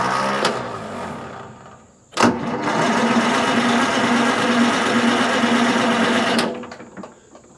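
A Detroit Diesel sawmill engine at a county fair cranks over with a steady whirring starter drone for about four seconds without catching, preceded by a brief clunk and a short earlier crank, then the starter stops.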